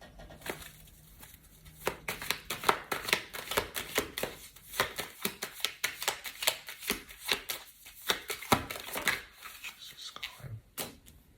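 A deck of tarot cards is shuffled by hand in a series of quick, crisp riffles and slaps. The sound is close and moderately loud, with short pauses between bursts and faint, quiet talk in the background.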